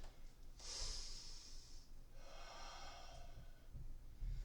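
Slow, deep breaths during a yoga pose, a hissing inhale followed by a softer exhale, close and quiet, with no one speaking.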